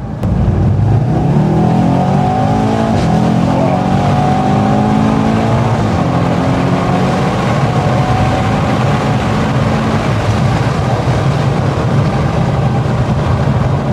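A Mercedes E63S AMG with its 4.0 V8 pulls hard under acceleration, a loud, continuous engine roar rising through the gears from inside the cabin, with no talk over it.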